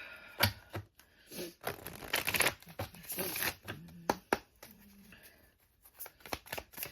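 Playing cards are shuffled, handled and drawn from a deck in a series of close, crisp riffles, snaps and paper rustles of irregular rhythm.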